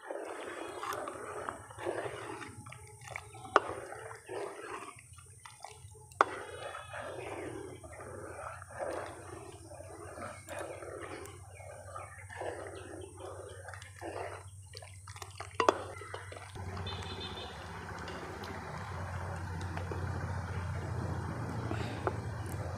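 Raw rice stirred constantly in a cooking pot so it won't stick to the bottom, making a steady, close run of soft scraping and rustling strokes over a low background hum.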